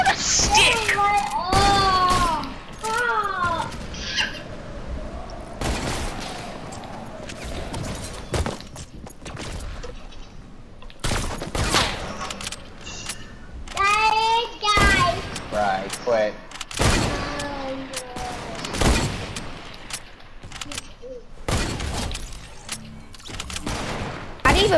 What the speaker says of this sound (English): I didn't even mean to shoot that bullet